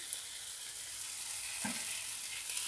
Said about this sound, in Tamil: இப்போ நல்லா தக்காளி வணங்கிட்டுங்க.